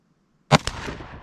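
A single sharp gunshot at an outdoor shooting range while a CVLIFE WolfCovert rifle scope is tested, heard after a moment of silence, followed by a quick secondary crack and a short fading echo.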